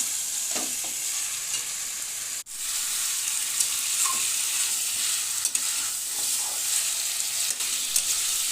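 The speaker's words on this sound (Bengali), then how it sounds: "মাংস 4-5 মিনিট ভালো করে নেড়ে চেড়ে নিয়ে এবার ঢেকে রেখে দেবো।" Chicken meat frying in a pan and being stirred, a steady sizzle running throughout with scraping strokes of the spoon and one brief break, no talking.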